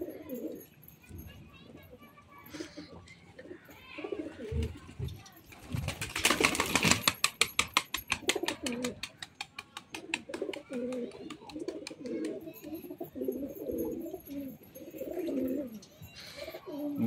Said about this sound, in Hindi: 6-7 साल पुराना कबूतर है ये